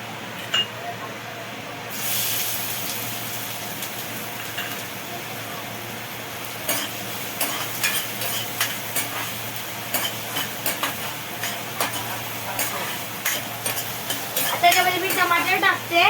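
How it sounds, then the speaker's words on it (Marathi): Onion frying in hot oil in a wok-style kadhai as a jackfruit vegetable dish is cooked at home, with a steady sizzle under repeated stirring clinks and scrapes that grow busier toward the end. "तेल गरम झालं, त्याच्यामध्ये कांदा टाकूया."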